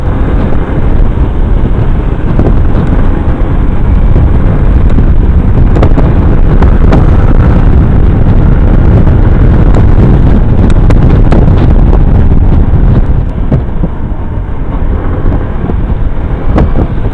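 Loud, constant wind buffets the microphone while riding an Easyride 175 FI ADV motorcycle, a heavy rumbling roar with gusty crackles throughout, no voices.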